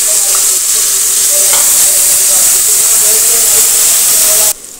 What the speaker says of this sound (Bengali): পেঁয়াজ কুচিটা বাদামি কালার করে ভেজে নিয়ে নেব